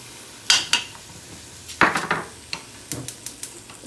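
Onions and garlic fry in a pot while a spoon stirs them. Sharp metal clinks and scrapes come in irregular bursts over a faint background sizzle, close and fairly loud.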